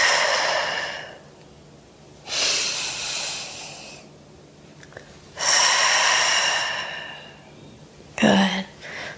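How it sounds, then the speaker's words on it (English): Heavy, audible breathing during a prenatal Pilates exercise: long, airy exhales alternate with quieter pauses in a slow rhythm, close to the microphone, ending in a sharp gasp-like breath. "Exhale. Breath in."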